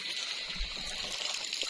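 Water from an overfilled household tank spills over and falls onto the ground below, a steady, hissing splash with a faint gurgle that holds evenly throughout at moderate distance.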